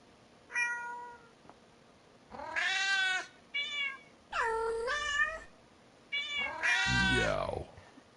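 A cat meows repeatedly, about five separate calls with short pauses between them. They are clear and close, rising and falling in pitch, and the last one is longer and lower, almost a drawn-out yowl.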